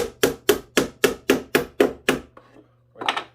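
Hammer tacking a nail into a wooden range box for black-powder revolvers: eight sharp, evenly spaced blows in quick rhythm, close and loud, then a softer knock and a brief clatter.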